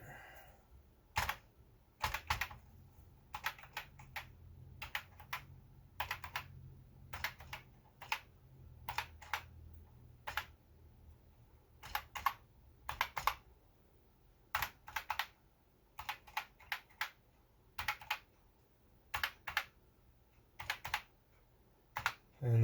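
Keys clacking on a repaired Commodore 64 keyboard under test, close and crisp, in irregular bursts of presses with short pauses between, over a faint low hum.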